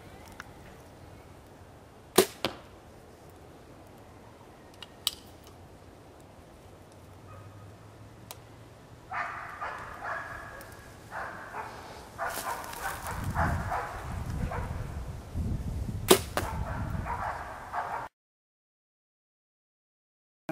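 An arrow fitted with a TwisterNock mechanical nock and plastic hard vanes is shot at a 20-yard target, giving a couple of sharp, close snaps over quiet outdoor background, followed by rustling and a later crack.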